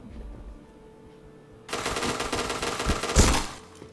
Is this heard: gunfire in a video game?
yes